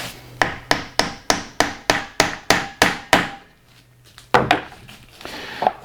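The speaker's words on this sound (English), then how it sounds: "And a little bit on the actual dowel. Give them a bit of a tap down." Wooden dowels are tapped down into a bench joint in a woodworking shop: about ten evenly spaced, sharp close-up knocks, then a pause and a couple more scattered taps and rubbing sounds.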